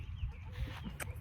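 A silkie hen clucks softly in a garden pen, with a few low murmuring clucks and faint background noise.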